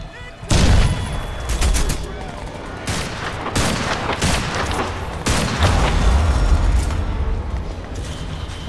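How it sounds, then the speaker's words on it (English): Pistol fire in Crysis 2 combat, several sharp gunshots spread across the stretch amid loud game noise and effects, with a voice heard faintly in the mix. "Ah, stupid pistol."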